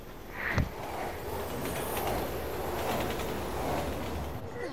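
A train rolls past in a Resident Evil game, a sustained rumbling clatter of wheels with faint squeals and a sharp thump near the start, heard at moderate distance.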